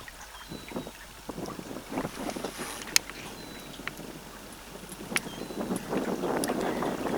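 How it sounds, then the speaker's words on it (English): A sailing boat's engine drones steadily in the background on the Alde and Ore rivers, a low continuous hum under gusty wind buffeting the microphone and a few faint knocks. "So unfortunately you have got the engine sound in the background."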